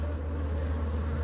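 Honeybees hum densely and continuously around an opened hive full of worker bees, a close, steady, loud buzzing drone with no voices.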